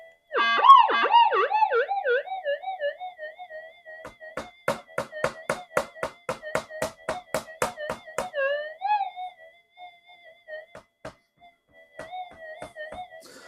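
Minelab GPX-5000 metal detector with a modified coil signalling over a hot rock, a wavering warbling tone followed by a run of rapid, evenly spaced beeps that trail off into a few scattered chirps, loud and close.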